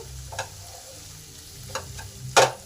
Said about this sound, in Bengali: হলুদ গুঁড়ো লঙ্কা গুঁড়ো জিরে গুঁড়ো আর ধনে গুঁড়ো সব দিয়ে দিলাম সমস্ত মশলা এই টমেটোর সাথে কষে নেব